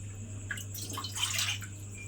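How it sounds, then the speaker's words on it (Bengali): Water splashes and trickles into a karai, a cooking pan, sitting on a gas stove. The pour is a soft, brief, close splatter over a low steady hum. "এইবারে আমি কড়ার মধ্যে দিয়ে দেব জল।"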